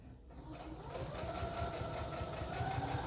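Sewing machine stitching a pocket onto an apron, a steady close mechanical whir with a regular rapid needle rhythm running throughout, growing slightly louder after the first half second.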